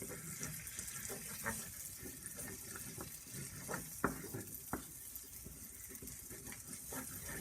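Vegetables sizzle faintly in a frying pan while being stirred, a soft continuous crackle broken by a few clicks and scrapes of the utensil against the pan.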